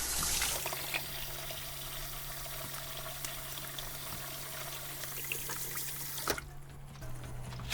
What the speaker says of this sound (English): the first thing we always want to do is wash our hands